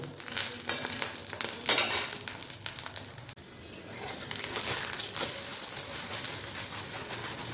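A fritter fries in mustard oil in a wok, a moderate sizzling hiss with scraping and crackle, briefly cut off midway and then resuming steadily.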